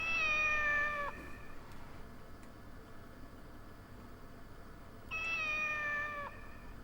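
In a quiet PS1 game, a cat's background meows come twice, each a drawn-out, fairly clear cry about a second long, separated by several seconds of low hiss.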